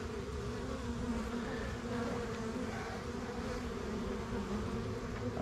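Honey bees at a hive make a dense, steady buzzing drone that is continuous and moderately close, with no voices.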